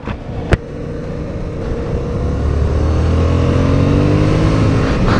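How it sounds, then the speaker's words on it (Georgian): A Yamaha MT-07 motorcycle accelerates on the road, its engine note rising steadily and growing louder after a sharp click near the start, with wind rush underneath. "რა კარგი აჩქარება აქვს ამ დალოცილს"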